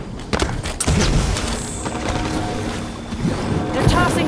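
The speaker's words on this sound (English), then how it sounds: "They're tossing frags." Frag grenades explode during an arena Strongholds match in Halo 5: Guardians, with a few sharp, loud broadband blasts cutting through steady gunfire and battle noise.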